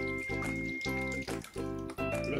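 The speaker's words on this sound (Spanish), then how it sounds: "Lo voy a meter aquí en el agua." Glued fabric is dunked into water, giving close splashing and sloshing with dripping and swishing in bursts, against a faint steady tone.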